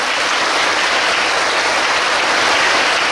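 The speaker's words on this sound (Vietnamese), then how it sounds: "cho một tràng pháo tay thật lớn" A large audience at a Buddhist teaching talk in Vietnam breaks into loud, dense applause that carries on steadily for its whole length, with no voices heard above it.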